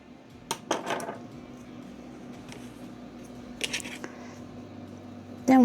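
A knife scores a hot baked potato around the edge, top and bottom, then crisscross: soft, squishy cuts in two brief clusters against a quiet kitchen background.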